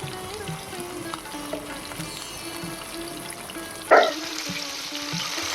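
A Katla fish head fries in a pan with spinach, a continuous close sizzle with light stirring scrapes and a sharp clatter near the end.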